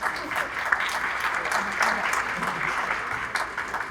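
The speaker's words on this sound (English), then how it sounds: "Give a round of applause for all the educators." An audience at a community summit applauds educators with a sustained round of dense, even clapping that fills the room at steady loudness from start to finish.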